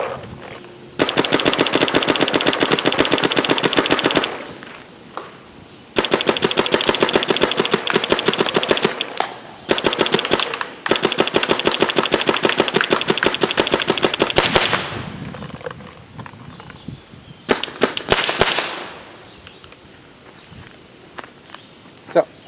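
A Planet Eclipse Emek MG100 magfed paintball marker firing in long rapid bursts of sharp cracks separated by short pauses, loud and close, ending in a few quick final shots.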